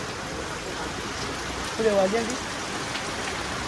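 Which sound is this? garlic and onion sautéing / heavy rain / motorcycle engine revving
heavy rain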